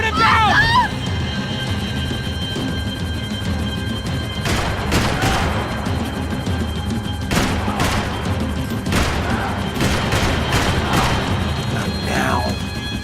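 Bursts of gunfire ring out in the Max Payne 3 video game during a nightclub shootout and chase, sharp shots scattered over a loud chaotic scene with shouted voices and a steady rumbling background.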